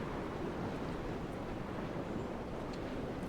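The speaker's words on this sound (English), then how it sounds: "It's getting windy up here." Wind gusts steadily across a cliff top in the game Dear Esther, a soft, broad rushing that blends with distant surf-like noise. It is faint, continuous and unbroken, with no voices.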